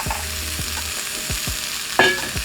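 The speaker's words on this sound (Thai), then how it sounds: "จะจี่แบบไร้น้ำมันนะครับ" Pork belly with bone dry-frying in a pan without oil, a close, crackling sizzle with a few short scraping stirs and one brief sharp spit near the end, no voices.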